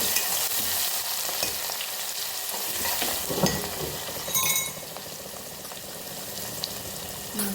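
Green chili and garlic cloves fry in hot oil with a steady, close sizzle, broken by a few stirring clinks of a utensil against the pan and no talking.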